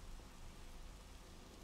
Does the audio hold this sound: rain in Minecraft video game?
yes